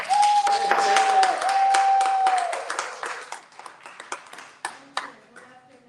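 Applause from a conference audience welcoming the next speaker at a book event in San Francisco, a dense burst of clapping that thins into scattered claps as it fades.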